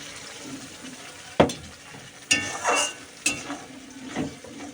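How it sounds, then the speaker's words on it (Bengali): Spice paste for a duck egg curry is fried and stirred in a pan after the water used to rinse the spices goes in. A soft, steady wet sizzle carries a few scraping stirs and clinks, with no talking. "মশলা ধোয়া জলটা দিয়ে দিব তারপরে কষতে থাকি"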